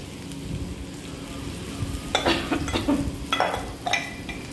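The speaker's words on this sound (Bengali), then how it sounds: "এবার ভালো করে একটু ভেজে নেব" Green chilli, ginger, cumin and coriander powder frying in a pan, a continuous close sizzle with stirring scrapes and a few louder crackling bursts, no talking.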